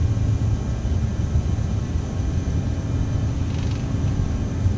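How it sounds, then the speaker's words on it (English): An Aerosoft CRJ900 airliner's jet engines hold takeoff power in Microsoft Flight Simulator, a steady, even broadband roar and rumble that stays at constant loudness throughout with no talk over it. "Takeoff power set."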